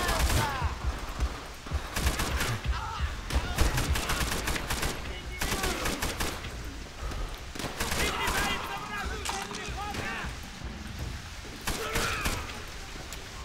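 Machine gun fire in the video game Call of Duty: World at War, repeated loud bursts of rapid shots in clusters separated by brief pauses, with someone talking over the gunfire at times.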